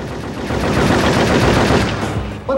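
Rapid machine gun fire rattles continuously in the Cold Winter video game, loud and sustained for a couple of seconds before cutting off, with no talking over it.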